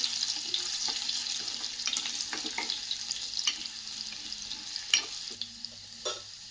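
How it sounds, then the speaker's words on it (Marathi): Chopped garlic sautéing in a pan with hing makes a soft, steady sizzle, punctuated by occasional scrapes and taps of a spoon stirring against the pan, close up with no speech. "हा लसूण आपल्याला छान परतून घ्यायचा आहे"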